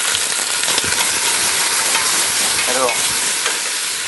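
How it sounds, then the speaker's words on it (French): Chicken pieces sautéed in a hot pan for a coconut-milk chicken with black mushrooms give off a loud, steady sizzle with brief stirring scrapes, and a voice says a single word near the start. "On fait souvent sauter, revenir les viandes avant de les mettre en cuisson."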